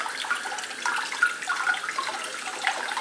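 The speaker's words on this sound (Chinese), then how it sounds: "我哋一路洗一路清洗佢" Tap water runs steadily over North American wild sea cucumber as it is rinsed clean of sand in a sink, a continuous close splashing and trickling with small fluctuations and no talking.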